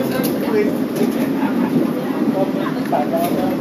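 Interior of the KA Argo Dwipangga express train in motion, a steady rumbling roll with faint rail clatter beneath, and people talking over it.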